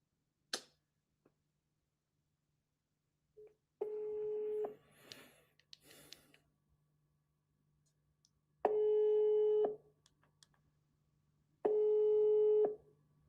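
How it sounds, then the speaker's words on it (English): A phone call is dialed with a few short tones and clicks, then a busy signal sounds in two clear, loud repeated bursts separated by silence, with faint background noise between them. "make a phone call real quick"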